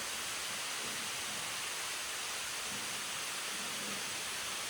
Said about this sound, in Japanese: 高千穂峡一番の絶景ポイント、こちらが真名井の滝です。